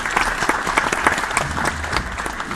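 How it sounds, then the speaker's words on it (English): An industry design talk audience gives a loud, dense round of applause for the first speaker, many hands clapping close together in a steady, busy patter with no talk over it. "lovely round of applause"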